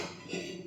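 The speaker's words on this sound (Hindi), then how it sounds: "चढ़ा देते हैं कुकर में आलू उबलने के लिए" A metal pressure cooker holding potatoes is set down on a kitchen stove. There is a brief, faint clink and clatter of metal on metal, with no voices.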